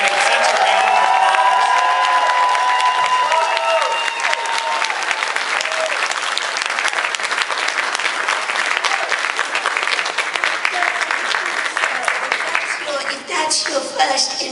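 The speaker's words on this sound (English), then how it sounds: "Everybody give Katy Magus such a round of applause." A convention audience gives a loud, sustained round of applause for actress Katy Manning, with cheering mixed into the dense clapping, and a voice talking over it.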